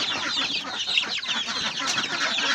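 Black Australorp hens mixed with native chickens clucking close by, a busy overlapping chatter of soft clucks and squawks from several birds with no talk.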